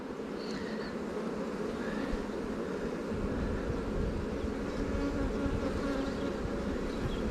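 A dense, steady buzzing of many honey bees at a hive fills the air, close and continuous, with individual insects droning past.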